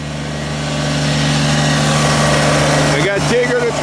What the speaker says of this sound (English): the tractor powering the house